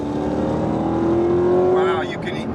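A 2018 Dodge SRT-Hellcat's supercharged engine pulls hard under a steady, rising whine close by for about two seconds before easing off, with people talking over it.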